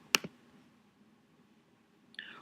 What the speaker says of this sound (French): On clique bien sûr.